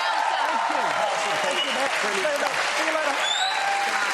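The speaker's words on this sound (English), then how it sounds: "Give him a round of applause." Applause from the audience of a magic competition show for the night's winner, dense clapping under a voice that talks over it, with music or cheering mixed in.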